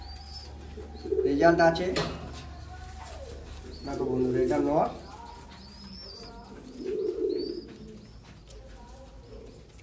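Royal Teddy pigeons give three bursts of deep, rolling cooing at close range, separated by quieter stretches with a few faint chirps, while someone talks in between.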